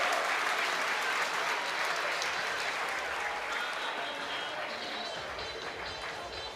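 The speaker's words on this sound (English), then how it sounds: "And it's a sellout crowd here" A sellout crowd at an old college ballpark, Jack Coombs Field, applauds steadily during a Murray State vs Duke baseball game, a dense continuous roar of clapping that slowly eases off.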